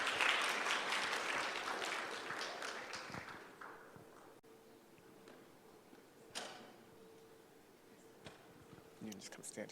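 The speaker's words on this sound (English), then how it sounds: "Let's give them applause for volunteering," Audience applause for youth volunteers at a TEDx Youth event, loud and full at first, then fading to sparse scattered claps with faint room noise and a few taps.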